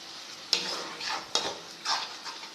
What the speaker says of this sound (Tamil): இப்போ இந்த தக்காளி, இஞ்சி பூண்டு அரைச்சது போட்டுடலாங்க.